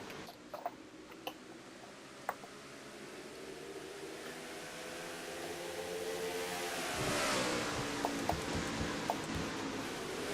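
Racing truck engines roar in the NRSL Advocare Truck Series Toyota Care 200 sim race, an onboard view of Charles Sanford's truck, with a steady engine drone rising to a louder revving pitch sweep midway and faint ticking clicks throughout.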